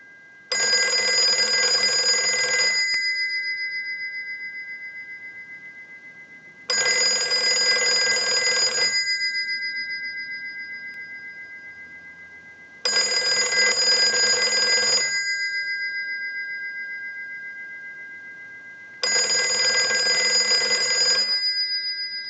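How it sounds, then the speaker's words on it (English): A Stromberg Carlson 1543 rotary desk telephone rings in four long bell bursts of about two seconds each, evenly spaced with quiet gaps between, loud and close with a steady ringing tone. "use the analyzer and send a ring cycle like you were getting a call"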